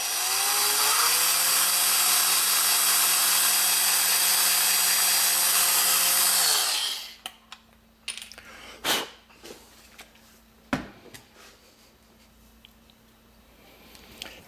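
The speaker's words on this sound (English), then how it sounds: "Drill the second hole." A power drill whines steadily at close range for about seven seconds, boring a hole through the floor of a Lionel O scale 40-foot reefer car, then stops, followed by a few light clicks and handling taps.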